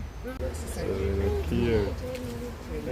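A pigeon coos in low, soft rolling calls at close range, with people talking at the same time.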